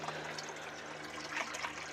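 Water being refilled into an aquaponics fish tank, a soft continuous trickling and pouring over a low steady hum, faint and even throughout.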